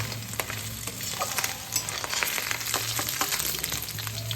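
Small mourala fish fry in white oil in a pan, a steady close sizzle and spatter with scattered sharp pops and occasional stirring scrapes, with no voices.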